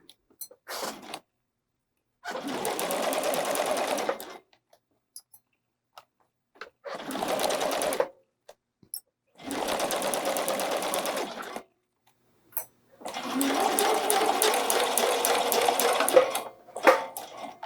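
A domestic sewing machine stitches a bralette in four separate bursts of steady whirring, each lasting one to three seconds with short quiet gaps between, close and clear with no talking.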